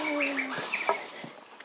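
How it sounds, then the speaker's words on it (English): Birds sing on a forested ridge trail in Oahu, Hawaii, with several short, bright whistled phrases and chirps close by, then sparser calls fading into soft outdoor ambience, with no talking. "I love the sound of the birds here."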